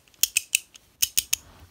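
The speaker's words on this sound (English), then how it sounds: "I'd say the clicks are actually pretty good on this Bey" Plastic parts of a Beyblade Burst B-117 Revive Phoenix top click together during assembly: about seven sharp, close clicks in two quick groups of three or four, alone with no talking.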